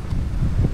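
Low, blustery strong wind buffeting the microphone by the Dupinga River in Gabaldon, Nueva Ecija, a dull rumbling roar with no voices.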